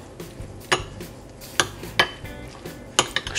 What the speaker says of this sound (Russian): В творог добавляем яйцо и хорошенечко просто вымешиваем.